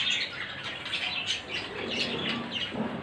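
Budgerigars in a garden aviary chirp and squawk in quick, overlapping bursts, fairly faint and slightly distant, with light flutters between calls.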